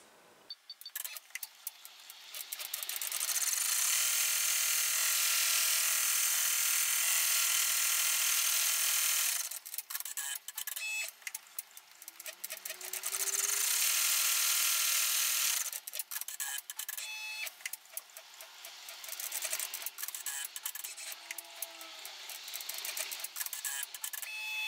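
A machine embroiders in the hoop around a wallet, its rapid mechanical stitching loud and steady in long bursts, pausing briefly between runs, with faint clicks and whirs in the gaps.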